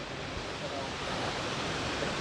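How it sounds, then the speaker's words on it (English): Water runs out of moss just ahead, a steady broadband rush of flowing water, fairly faint and unbroken, with no voices heard. "there's like water running out of moss up ahead"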